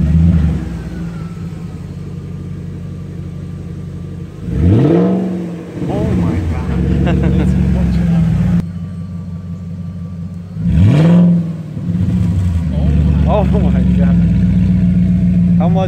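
Audi A6 C5 with the 4.2 engine and its mufflers cut off idles with a loud, raw rumble and is revved hard twice, each rev rising and falling over a couple of seconds, while people talk over the idle.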